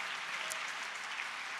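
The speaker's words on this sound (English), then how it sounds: "Give yourself an applause." Audience applause at a political convention panel, a steady dense wash of clapping from a crowd lasting the whole moment, moderately loud and even without pauses.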